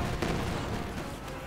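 An anti-tank gun round striking an M20 utility car in a World War II game, a heavy booming impact with a dense, rumbling, sustained blast over a second and a half.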